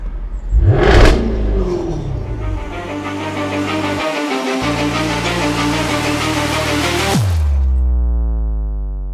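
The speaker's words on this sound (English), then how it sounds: "the Jaguar F Type with the V8 powertrain really took the motoring world by storm, and it's not hard to see why, just listening to that exhaust note" A Jaguar F-Type with the V8 engine revs hard, its loud exhaust note climbing with a brief lift mid-rev before settling into a fading rumble, heard close and alone.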